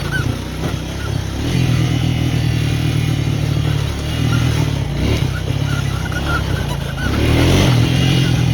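A four wheeler or mini bike engine running steadily while riding over rough, torn-up ground, a loud, continuous low drone that rises slightly toward the end, with rattles over it.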